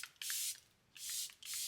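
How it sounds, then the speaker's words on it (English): Charlotte Tilbury Airbrush Flawless Setting Spray hisses out in three close, quiet bursts from a pump mist bottle, each a short airy spray with brief pauses between. "Flawless Setting Spray."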